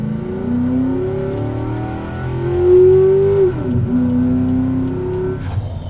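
A 2003 Mercury Marauder V8 sedan's induction roar rises steadily as it revs, shifts with a brief dip, then pulls again, loud and close from inside the car.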